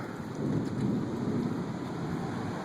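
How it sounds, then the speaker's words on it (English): An approaching thunderstorm on the Lynn/Saugus line brings steady, hissing rain with a low, sustained rumble of thunder rolling underneath, fairly loud and continuous. "Pretty sure my house might have just got struck by lightning."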